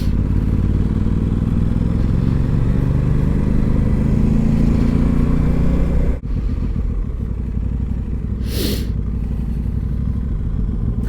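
Aprilia RS660 sport motorcycle ridden on the road, a loud continuous engine drone under wind that drops abruptly midway as it downshifts with the quickshifter, then carries on at a lower pitch with a brief rushing burst.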